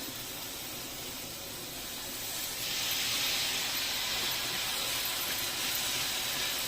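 Prawns dropped into a hot pan for a vegetable dish, a continuous hissing sizzle that grows louder partway through and holds steady, close and alone.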